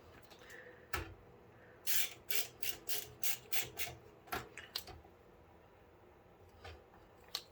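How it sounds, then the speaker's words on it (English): An LTT screwdriver with an extension drives screws into a Fractal POP XL PC case, heard as a close series of short ratcheting, rasping bursts in a quick run, then a few scattered clicks. "grab our LTT source screwdriver extension"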